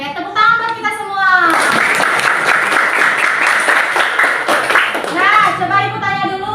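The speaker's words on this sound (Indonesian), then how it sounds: "Oke, tepuk tangan buat kita semua." Classroom children clap together in a loud, dense burst lasting several seconds, with a teacher and kids speaking just before and after.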